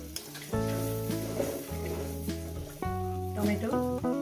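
Spice masala with tomato sautés in a pan for chicken kasha, sizzling under a loud sustained tonal hum that dominates the sound.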